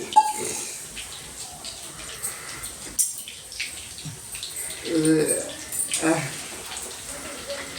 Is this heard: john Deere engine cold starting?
no